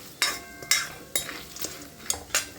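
Puffed rice with peanuts and salt being stirred while roasting in a pan, with several sharp scraping clatters at irregular intervals and a faint sizzle between.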